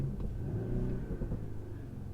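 An Audi SQ5 engine revs in dynamic mode with the exhaust valves open, its sound piped into the cabin. A steady, muted low rumble swells slightly and is heard from inside the closed car, with no talking.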